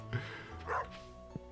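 A dog barking in the farming video game Stardew Valley: one short bark near the start, then a louder bark or yip a moment later, over quiet game background sounds.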